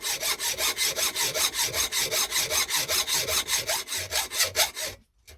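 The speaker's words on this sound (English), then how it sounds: "I'll just saw that off now" A hand saw cuts metal stock held in a lathe chuck with fast, regular back-and-forth rasping strokes, loud and close, about five per second, stopping abruptly near the end.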